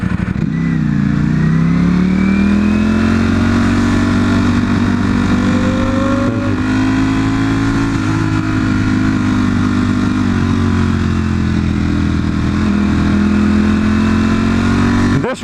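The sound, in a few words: sport motorcycles revving and accelerating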